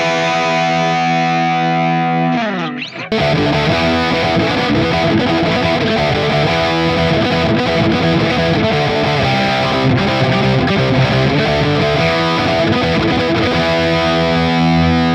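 A heavy distorted metal electric guitar tone from a 5150 amp model on a Line 6 Helix HX Stomp XL, one ringing chord sliding away, then dense chugging riffing played loud and continuous with effects, no talking.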